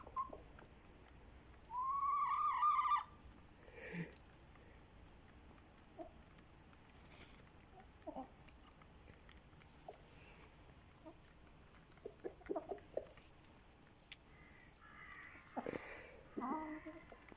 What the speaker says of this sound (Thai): ให้อาหารไก่อันค่ะ